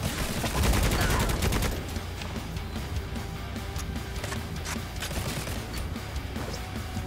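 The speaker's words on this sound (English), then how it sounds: "Who the fuck is shooting at me," Gunfire in the video game Necromunda: Hired Gun, a dense burst of rapid shots up front that fades into scattered distant shots over a steady battle din.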